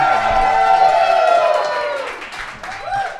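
A crowd at a live podcast taping in a restaurant cheers and whoops loudly, with clapping and shouting voices rising and fading over a few seconds.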